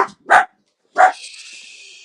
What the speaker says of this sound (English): that's what we call a proper guard dog